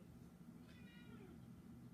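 A domestic cat lets out a single faint, drawn-out meow in the middle of the clip, heard well back from a steady low room hum with no talking.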